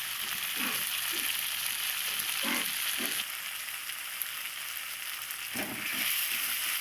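A spice paste of dried red chilli and garlic fries with onion in a pan, giving a continuous soft sizzle with a few faint stirring knocks.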